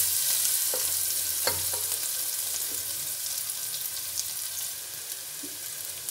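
Onions frying in a pan for potato kurma make a steady, moderately quiet sizzle with occasional clicks and light stirring taps, heard close and uninterrupted, with no talking.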